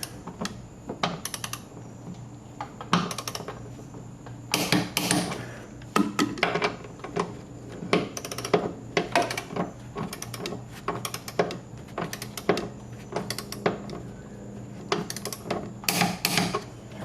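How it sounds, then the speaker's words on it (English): Torque wrench with an extension tightening rear suspension bolts during an Eibach suspension install on a Challenger, heard as sparse, close, quiet metallic ratcheting clicks in short bursts separated by pauses, with no speech. "And then I'll come back with the torque wrench."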